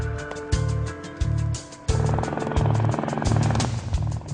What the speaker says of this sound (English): During the helicopter ride